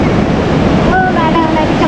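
Ocean surf at Aareware beach in Ratnagiri rolls in as a steady, loud wash of waves mixed with wind buffeting the microphone, with a brief voice partway through.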